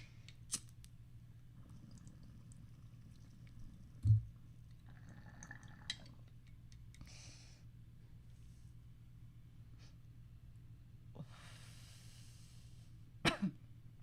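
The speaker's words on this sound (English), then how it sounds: "I cough every time." Two short, faint coughs from a person smoking, spaced several seconds apart, over a steady low hum with a few small clicks in between.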